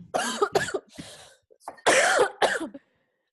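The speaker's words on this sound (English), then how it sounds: "Oh, got a cough." Several harsh coughs in quick bursts, close to the microphone, with a brief pause between two clusters of hacking.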